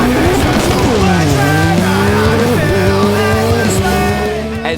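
Race cars at a drag racing event, engines revving hard with rising and falling whines and tire squeal, loud and close, with a crowd and commentary noise faintly underneath.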